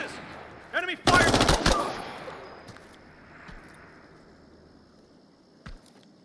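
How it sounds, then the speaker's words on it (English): A short burst of rapid automatic gunfire from enemies in a video game, loud and sharp, followed by a fading rumble and a single later shot, with faint voice sounds near the start. "Cover bases! Enemy fire!"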